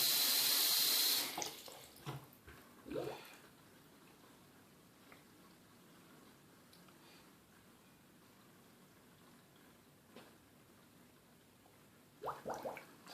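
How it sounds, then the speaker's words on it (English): Water runs from a bathroom sink faucet and flushes down the drain, a steady close rushing flow that stops after a second, followed by scattered drips and faint gurgles with brief splashes near the end. "And we'll just let that water go through and just flush through there and push anything else that's lingering in the pipe on through."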